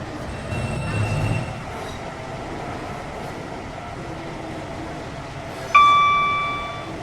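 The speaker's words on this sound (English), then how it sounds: "The train now approaching platform 1 is the soft line service to Bretting" A train rumbles into a station in the video game Project Transit under a steady background hum, then a bright electronic chime rings out near the end and slowly fades.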